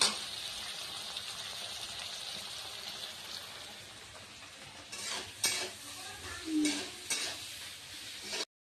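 Shidol dried fish being stirred into sizzling fried onions in a pan, a steady frying hiss with scraping spoon strokes growing louder toward the end, no talking.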